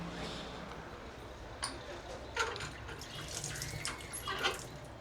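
Water runs from a kitchen sink tap in a steady, faint hiss, with a few light splashes and clinks over it.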